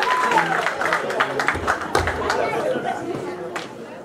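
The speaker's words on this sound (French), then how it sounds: "On acclame très fort le Seigneur." A wedding congregation applauds and cheers, a dense wash of clapping and crowd chatter with voices mixed in, steady throughout and easing slightly toward the end.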